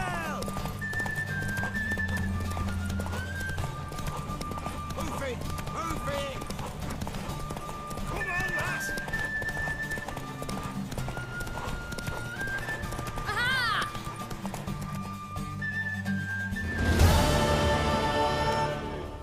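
A horse galloping in a race in The Witcher 3 video game, rhythmic hoofbeats and occasional whinnies under a musical score, with characters talking over it and a louder burst near the end.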